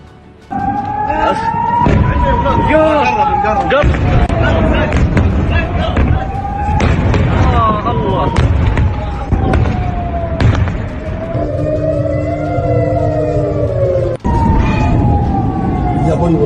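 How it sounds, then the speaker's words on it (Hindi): Sirens wail with rising and falling tones during an Iranian missile attack on an Israeli city, while sharp explosion-like bangs go off repeatedly and people talk and shout throughout. "सबसे पहले आप इस वीडियो को देखें जो ईरान ने 4000 किलोमीटर की अपनी मिसाइल इजराइल पर अटैक किया है"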